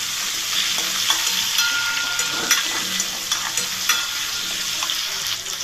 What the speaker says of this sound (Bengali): আলুগুলোকেও সুন্দর করে ভেজে নেব।